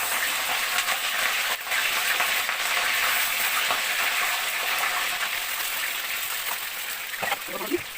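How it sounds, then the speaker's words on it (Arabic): Potatoes fry in oil with a dense, continuous close sizzle and a few faint clinks near the end. "نقلي بطاطس"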